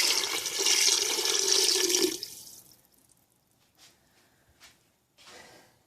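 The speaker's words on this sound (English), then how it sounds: "you can add 6 cups of either vegetable broth or some veggie stock or even water" Six cups of water pour into a soup pot for vegan dumpling soup, a full splashing rush for about two seconds that stops abruptly, followed by a few faint small knocks.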